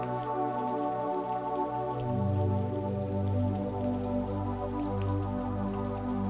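Slow, soft rain patters steadily beneath a sustained, calm tonal drone, forming an even, unbroken wash of sound with no voices.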